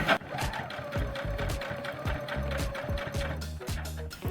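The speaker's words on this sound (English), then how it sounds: "So I'm gonna bring the needle down manually. It's on the spot I need it to be. And I'll sew." Sewing machine stitching a plush toy, running in short choppy bursts with a steady mechanical whir, close and moderately loud, with no talk over it.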